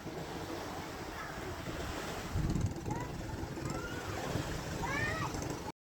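Steady rushing sea waves and wind fill the scene at moderate distance, with a few faint high calls near the end.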